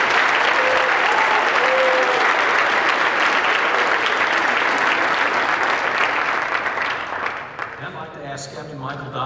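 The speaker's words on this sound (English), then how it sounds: "Let's listen to the round of applause for our four vice speakers." A round of applause from the audience at a GED graduation ceremony run by a county sheriff's office, with steady, full clapping throughout that thins toward the end as voices begin to be heard.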